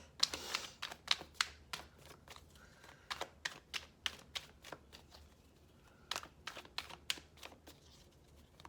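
A deck of tarot cards is shuffled close up, with repeated crisp riffling flutters and snaps in quick bursts, quiet overall.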